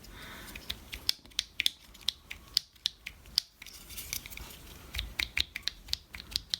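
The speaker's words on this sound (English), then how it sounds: "You can just press that down until it snaps in place." A master window switch part from a second-generation Toyota 4Runner being pressed into its post, with a quick series of small, crisp plastic clicks and snaps, close and fairly faint.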